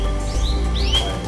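Canary chicks give thin, high chirps, with a few rising squeaks standing out over a steady low background hum indoors.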